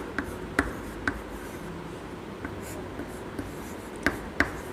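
A pen writes an answer by hand on paper, giving soft scratching strokes with a few sharper taps, faint and close, with no talking.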